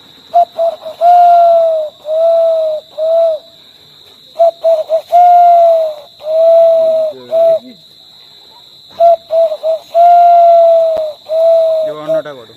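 A human voice imitates the call of the ishti kutum bird, producing close, loud, whistle-like hooting notes in short clusters separated by brief pauses, repeated several times over a steady faint high hum.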